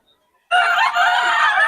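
A gamefowl rooster at Bocaue lets out a single loud, close crow that begins abruptly after a short silence and holds to the end.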